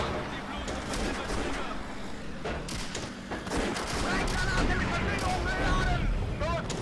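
A tank gun fires in Steel Fury Kharkov 1942 amid a noisy battlefield, with a few heavy thumping shots and scattered gunfire over a constant rumble, while someone talks throughout.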